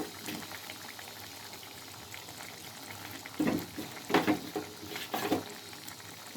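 A pot of drumstick and cucumber dried fish curry simmering, with a soft bubbling and a few louder bursts of pops and sputters toward the end, faint and close.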